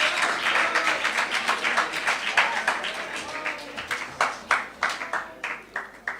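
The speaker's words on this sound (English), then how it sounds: "let us give the participants another round of applause" A round of applause for participants at a Lions Club zone event, many hands clapping close by, dense at first and then thinning into distinct scattered claps that fade out.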